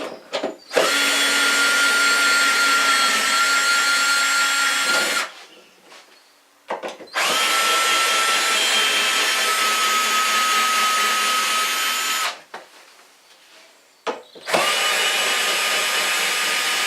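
A power drill whirs loudly in three long sustained bursts, each running several seconds, separated by short pauses with faint clattering.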